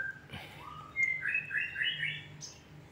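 A white-rumped shama (murai batu) sings a short series of bright, clear chirps and whistled phrases close by, over quiet background hum.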